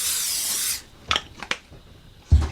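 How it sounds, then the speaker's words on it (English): Olive oil cooking spray hisses into a crock pot in one steady burst of close spray, followed by a few light knocks and clatters of handling. "I'm gonna go ahead and spray my crock pot with olive oil spray"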